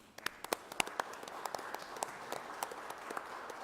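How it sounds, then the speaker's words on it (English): Applause at a press conference is heard as a sparse, fairly distant scattering of individual hand claps, with distinct sharp claps standing out against a quiet room. "I think we should all recognize that with a round of applause"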